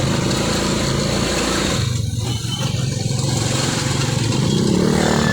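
Cars and motorcycles crawl through heavy traffic on a flooded road during typhoon rains in San Pedro, Laguna. A continuous, loud drone of engines is broken by occasional revving and clatter close by.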